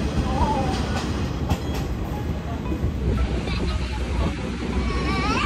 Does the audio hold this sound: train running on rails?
yes